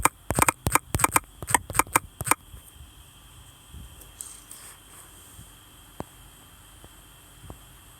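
Quick run of sharp keyboard clicks opens close and loud on a computer keyboard, then stops, leaving faint room hiss with a few isolated soft taps.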